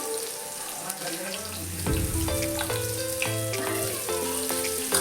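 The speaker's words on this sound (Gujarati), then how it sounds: "અને થોડી ફ્રાય કરી દઈશું" Cumin, green chillies and garlic chutney fry in hot oil with a pinch of ghee for a yogurt and onion curry, giving a steady close sizzle under tonal background music that swells midway.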